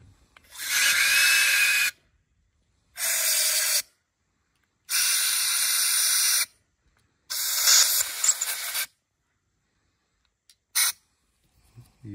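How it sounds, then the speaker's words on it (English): Compressed air blasting through a Kawasaki Brute Force 300 carburetor in four loud hissing bursts of one to two seconds each, separated by short silences, then a brief final puff. "But first of all, I'm gonna use compressed air to blow it out."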